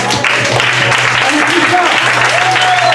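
Congregation clapping together in a church during worship, a steady dense applause running throughout at moderate loudness, with a sustained musical tone and voices mixed underneath.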